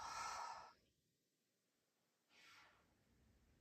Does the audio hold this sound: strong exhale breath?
yes